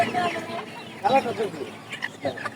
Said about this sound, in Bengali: এই ধরনের মোরগ মুরগি নিতে চাইলে আপনারা হাসনাবাদ হাটে চলে আসতে পারেন।